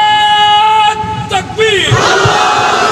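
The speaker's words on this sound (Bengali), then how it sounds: "কর্ণফুলী পটিয়া থানার ভাইয়েরা আওয়াজ দিয়ে বলুন, কবরে যাবার পূর্ব মুহূর্তে আমরা মুসলমান হতে চাই কি চাই না?" A large crowd at an Islamic religious gathering shouts back in unison in answer to a preacher's call. Sustained, loud massed voices swell, cut off briefly, then surge again in a thick roar echoing through an amplified outdoor setting.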